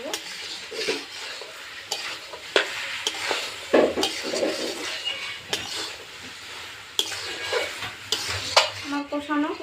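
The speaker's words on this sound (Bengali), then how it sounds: "খুব ভালো করে আলু মটর আমি কষিয়ে নেব" Potatoes and peas stirred and sautéed in a pan for village-style ghugni, repeated sharp spatula scrapes against the pan over a continuous frying sizzle, close and fairly loud, with a brief voice near the end.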